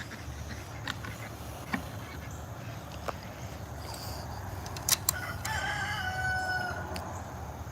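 A rooster crows loudly near the end among backyard chickens and ducks, with a few short clucks and honks scattered earlier over outdoor ambience.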